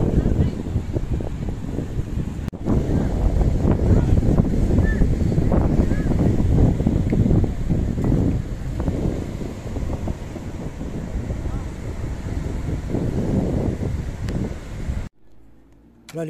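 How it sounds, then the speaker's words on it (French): Strong wind buffets the microphone on a crowded beach during a mountain-bike tour along the Spanish coast between Xeraco and Calp, a loud continuous roar that cuts off abruptly near the end. "c'est vraiment pourri, il y a du vent comme hier"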